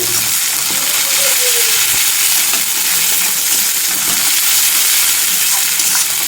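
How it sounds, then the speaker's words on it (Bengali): Ginger-garlic paste with ground coriander paste frying in a pan, a steady close sizzle throughout with light stirring scrapes, for a spicy egg curry. "এবার এর মধ্যে দিয়ে দেবো আমি ধনে বাটা। এটাকে একটু কষিয়ে নেব।"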